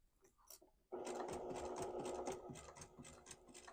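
A sewing machine runs steadily, stitching through quilted fabric for a quilted charging-cord organizer, starting abruptly after a few faint handling sounds and continuing loud and close without talk.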